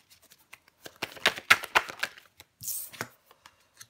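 Tarot cards handled and drawn during a close-up reading: a quick run of crisp snaps and slides, followed by a longer papery swish and a few soft taps.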